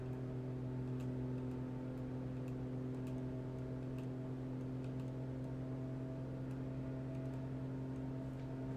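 A car engine holds at high RPM, a steady droning hum with strong low tones and faint ticking above, continuous and unchanging without talk.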